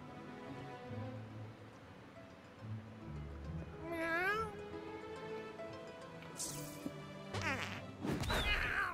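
A cat meows in South Park: The Fractured But Whole, a rising wavering call amid game sound effects, followed by sharp crashes and someone speaking.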